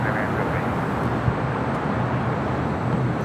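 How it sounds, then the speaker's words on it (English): A Qantas A330 heavy on arrival at LAX from Brisbane gives a steady, fairly distant engine rumble with no talking. "That looks like a Qantas A330."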